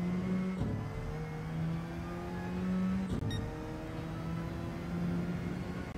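A race car in Gran Turismo 7 accelerates on a European circuit, its steady engine drone rising through the gears with a sharp shift partway through, loud and continuous with no voices.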